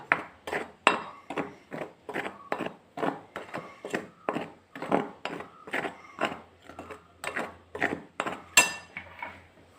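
Batter with pepper being mixed in a bowl for okra bajji, a steady run of rhythmic clinking and knocking strokes, close and fairly loud, with no talk.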